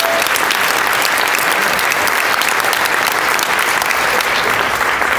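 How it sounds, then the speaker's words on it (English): A conference audience gives a big, sustained round of applause, dense steady clapping filling the whole stretch at close, even loudness with no voices on top. "Give Asia a big round of applause."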